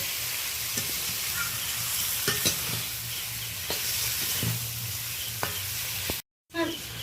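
Prawns stirred lightly with spice masala in a pan while cooking a prawn malai curry make a continuous close sizzle with occasional soft scraping strokes, interrupted briefly by a dropout near the end.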